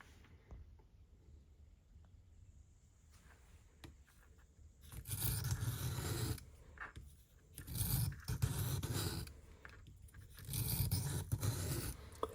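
A fairly new sharpening stone with a knife blade drawn across it in repeated bursts of broad rasping scrapes, each stroke lasting about a second, fairly close, with quieter pauses between passes.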